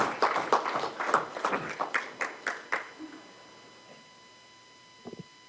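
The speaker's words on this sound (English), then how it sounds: "let's give her a round of applause for serving our community as a commissioner" At a Yucca Valley town council meeting, a small audience claps for a departing commissioner, a brief burst of dense applause thinning into a few scattered claps and fading to a quiet room with a faint steady hum.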